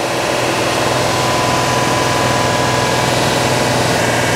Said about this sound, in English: I've got the engine right around 2600 RPMs.